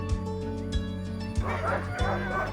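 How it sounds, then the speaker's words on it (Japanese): Huskies at a winter sled-dog site in Lapland, Finland bark in repeated sharp bursts close by, with a steady clamor of other dogs behind and some voices mixed in. "周りのハスキーは立ち上がって吠えてるのに"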